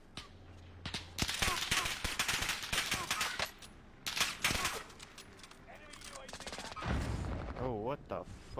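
Video game gunfire crackles in rapid automatic bursts and single shots, loud and close, broken by brief pauses, with voices talking between and over the shooting.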